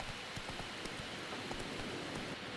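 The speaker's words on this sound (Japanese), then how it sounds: "いやにしてもここのエリアはずっと雨降ってるね。" Steady rain falling in The Witcher 3: Wild Hunt, a dense continuous patter of drops filling the scene evenly and moderately loud, with no voices.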